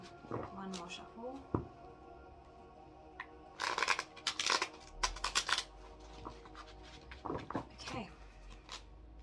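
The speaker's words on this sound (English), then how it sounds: "One more shuffle." A quick burst of riffling tarot card shuffles in the middle, with soft handling clicks and taps before and after, close to the microphone.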